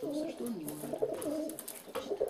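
Pigeons on a table cooing in repeated soft throaty phrases, close and clear, with light rustling and scattered clicks between calls.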